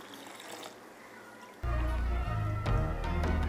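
Strained tamarind sherbet is poured after a quiet moment, a close, full liquid gush that runs steadily to the end with small splashing surges.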